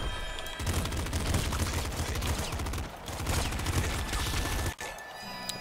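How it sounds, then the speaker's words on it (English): Pop gun in Nuclear Throne firing nonstop, a dense rattle of rapid small shots held for several seconds and briefly cut off once near the end. "Taste of the pop gun."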